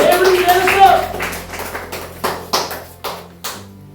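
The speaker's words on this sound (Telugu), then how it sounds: "చప్పట్లు కొడదాం ప్రియులారా, దేవుడికి తెలుసు." A church congregation claps in a few sharp, uneven bursts that thin out into separate spaced claps, with a preacher's voice talking over the start.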